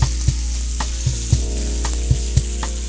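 Oxtail pieces browning in oil in a pan, a steady bright sizzle with sharp periodic clinks and scrapes of stirring, close and fairly quiet with no voices.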